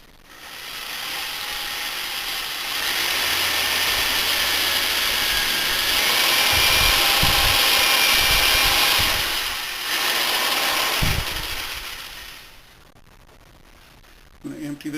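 A power drill bores into brick for a bricked chamber at a forge, giving a steady loud grinding whir up close that rises and holds for several seconds, briefly dips and then winds down.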